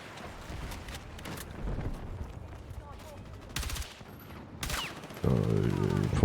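Gunfire in the shooter game Battlefield 6: scattered sharp shots, then louder bursts, ending in a sustained rattling volley of automatic fire, with occasional quiet voice sounds between the shots.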